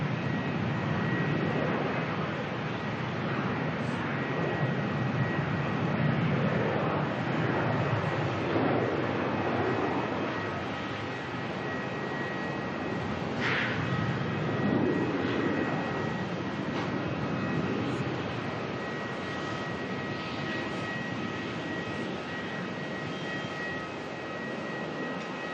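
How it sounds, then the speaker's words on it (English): A Virgin Australia jet airliner, flight Velocity 735 bound for the Gold Coast, departs Melbourne with a sustained engine roar and whine that swells and slowly fades, heard from a moderate distance with no talk. "next departure rolling out here. Velocity 735 heading off to the Gold Coast"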